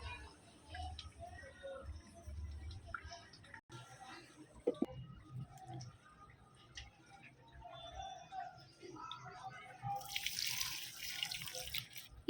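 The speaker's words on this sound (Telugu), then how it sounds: "ఈ వాటర్ని ఇప్పుడు మన పూల మొక్కల యొక్క మట్టి భాగంలో అందించేసుకుందాం" Water is poured onto the potting soil around flower plants, giving quiet, intermittent trickles and drips that end in a brighter, hissing splash near the close.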